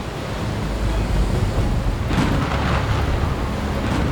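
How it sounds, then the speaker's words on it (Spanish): Storm waves and gusting wind crash against a ship at sea, a loud continuous roar of surf and rushing air that swells midway, with no voices. "Una tromba de agua se precipitaba contra el barco, mientras el oleaje no dejaba de azotar sus costados."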